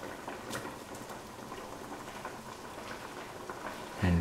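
Parsley chicken stew simmers in a pot with a soft, steady bubbling and crackle, close and fairly quiet, ending in a brief low thump.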